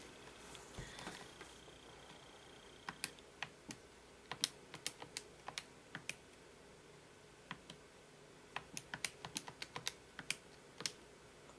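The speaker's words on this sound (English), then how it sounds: "And then type it in." Calculator or keyboard keys tap quietly while a logarithm calculation is entered, in irregular clusters of crisp, close clicks after a brief rustle at the start, with no talk.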